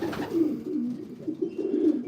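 Racing pigeon breeders coo inside a loft, a low throaty rolling murmur repeating in soft swells. It is close and continuous, with no talk.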